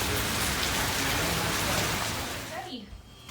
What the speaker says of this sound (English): And the sun's out and everything, and it's raining.